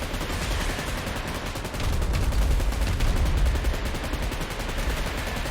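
Sustained video-game gunfire from an M249 machine gun with a bazooka in a Titans-themed game mode, a dense continuous rattle of rapid shots with a heavier low rumble swelling midway, loud and without speech.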